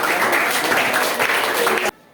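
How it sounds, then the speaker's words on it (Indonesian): Classroom applause from a group of students during a civics lesson, a dense broadband patter of clapping that holds steadily for about two seconds and then cuts off abruptly. "Tepuk tangan."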